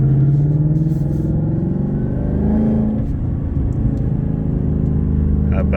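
A 2024 Ford Mustang GT with an upgraded exhaust rumbles loudly and steadily on the road, revving as it accelerates, with a deep exhaust drone close by throughout.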